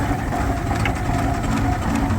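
A steam traction engine at a country and vintage show runs with a loud, steady low rumble and continuous mechanical clatter, close by and unbroken, with no talk.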